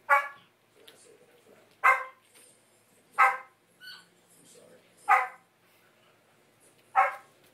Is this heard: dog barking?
yes